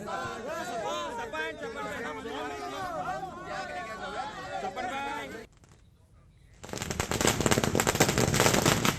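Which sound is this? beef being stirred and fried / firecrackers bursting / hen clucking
firecrackers bursting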